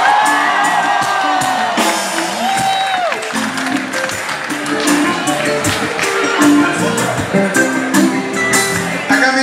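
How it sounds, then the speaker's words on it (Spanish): A live concert crowd at a performance in Pucallpa keeps up sustained applause mixed with whoops and cheering, loud and continuous, with music and voices blended underneath. "aplauso para usted"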